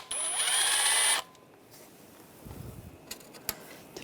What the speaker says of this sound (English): There's a ground right here. Use the 8mm socket.